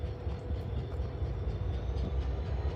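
A Norfolk Southern or CSX freight train rolls into a rail yard in Chattanooga, Tennessee, a steady, close low rumble with faint rail clatter throughout.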